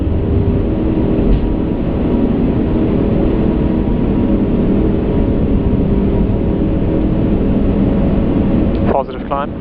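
Airbus A380 engines roaring during night takeoff rotation and climb, a loud continuous broadband rumble heard from the cockpit, with crew callouts over it.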